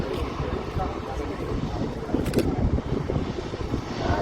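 An Airbus A320-200 taking off at an airport, a broad distant engine roar building gradually and swelling louder toward the end, with wind buffeting the microphone.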